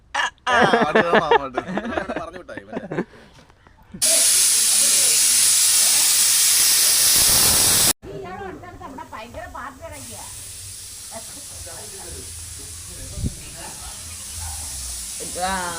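A pressure cooker whistles and vents steam while a pork roast cooks, giving a loud, steady hissing rush that lasts several seconds, with people talking nearby before and after it.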